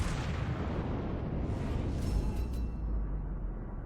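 Battleship main guns firing a broadside salvo in World of Warships, a heavy booming blast with a dense rumbling tail that lingers, loud and close, without voices.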